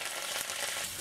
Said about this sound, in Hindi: थोड़े से करी पत्ता हम डाल देंगे